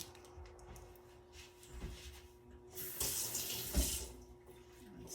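A kitchen faucet runs while ground turkey is rinsed under it, a steady splashing hiss that swells louder midway, close and without speech.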